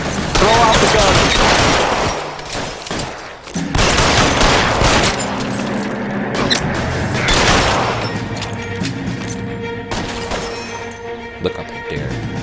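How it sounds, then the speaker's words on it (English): Gunfire in the video game LA Noire, a loud, dense fusillade of rapid shots and impacts that continues throughout with hardly a break. "Lay down some cover and fire."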